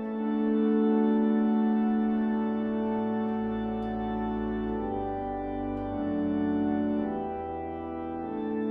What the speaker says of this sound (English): So it's quite a gentle organ sound, isn't it?